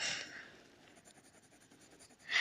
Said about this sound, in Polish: a więc ja piszę